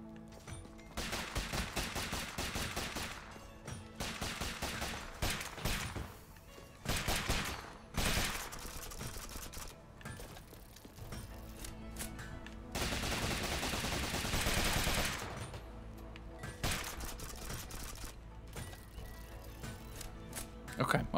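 Rapid gunfire in the video game Rogue Legacy 2, dense repeated shots in bursts with short pauses over game music and effects, continuous and loud throughout.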